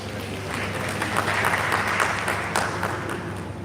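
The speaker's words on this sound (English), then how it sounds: "A warm round of applause once again" Applause for a speaker at a professional development session in Ibadan fills the room with a steady, moderate wash of clapping under a low background hum, with no voices heard.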